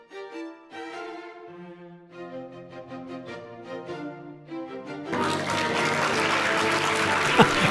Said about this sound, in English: You gotta love it when audience members clap for your scene change.